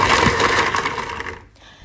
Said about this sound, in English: Don't grind straight like that unless you spoil your blender.